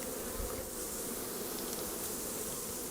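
Honey bees buzzing at an opened beehive during a hive inspection, a dense, loud, continuous drone of many insects close by, steady throughout with no talk.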